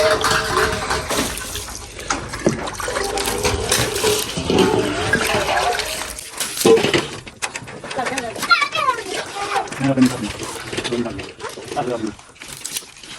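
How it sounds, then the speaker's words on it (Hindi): Water from a tap pours onto a tractor to wet it for washing, a splashing, gushing flow that varies in strength, mixed with birdsong and people talking nearby. "पहले नलके से पानी डाला जा रहा है।"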